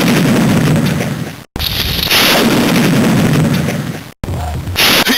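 Explosions from the Game Boy Color game Cannon Fodder, long roaring blasts of gritty low-heavy noise with two abrupt cutouts between them, loud and sustained, each surge fading before the next one hits.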